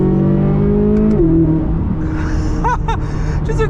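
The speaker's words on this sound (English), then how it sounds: "Just a quick third-gear pull right there. It revs so high." A Chevrolet Corvette C8 Z06 engine screams up through the revs in a third-gear pull, loud and close, with a sharp shift in pitch midway and a short gasp-like exclamation near the end.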